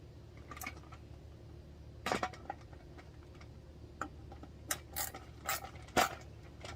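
A number 2 Phillips screwdriver tightens a small bolt and nut on a galvanized raised garden bed, making scattered close metallic clicks and ratcheting taps separated by quiet gaps.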